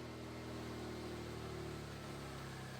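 A Suzuki Jimny engine runs at a steady idle with a throaty, low rumble, held constant and fairly quiet throughout.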